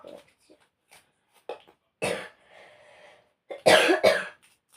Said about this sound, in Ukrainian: І так, я кашлю.